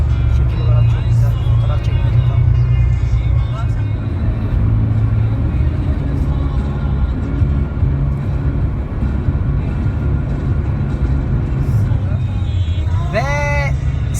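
A car driving south along mountain roads in Oman gives a steady, close engine and road rumble throughout, with occasional voices over it.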